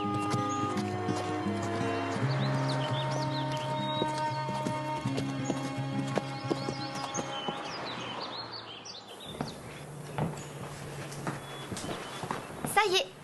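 Steady clip-clop of horse hooves at a walking pace under music and occasional voices, with a few bird chirps in the background.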